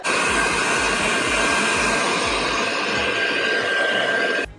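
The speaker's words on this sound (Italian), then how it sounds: "E poi dice di riscaldare la parte del biadesivo con un phon in modo tale che si ammorbidisca e aderisca meglio al televisore." A hair dryer blows hot air onto the adhesive tape of an LED strip for a TV, a steady close whooshing roar with a faint rhythmic flutter that cuts off at the end.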